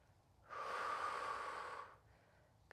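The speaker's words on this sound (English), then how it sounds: "Good, breathing deeply." One deep, audible breath is drawn during a Pilates shoulder stretch, a soft airy rush lasting about a second and a half, close and fairly quiet.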